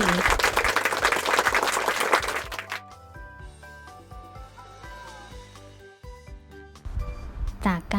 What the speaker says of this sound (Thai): เด็กๆ ปรบมือให้ตัวเองได้เลย